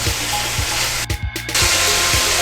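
Chicken pieces browning over high heat in a pan for Fijian chicken chopsuey, a steady loud sizzle with a brief stir or lid movement midway.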